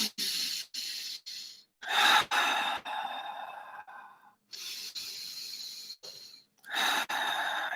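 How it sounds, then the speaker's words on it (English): Deep, slow breaths during a guided meditation: a close, airy series of long inhales and exhales with brief pauses between them, and no talking. "Just keep breathing"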